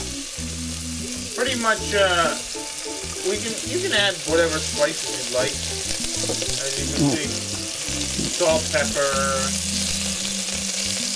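Chopped meat browning in a pan for rice and beans, a continuous close sizzle and crackle with stirring scrapes, under intermittent conversational speech.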